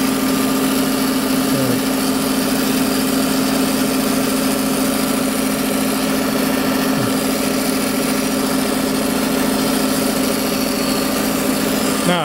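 Bandsaw fitted with a 3/4 inch, 20 mil blade, used on red cedar, runs with a steady, loud motor hum and a constant tonal drone, plus a couple of faint short squeaks.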